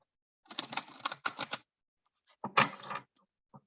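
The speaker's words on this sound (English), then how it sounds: "Okay, one more shuffle." Tarot cards are riffled and shuffled in quick papery bursts, pausing briefly before a final flurry and a light tap; no one speaks.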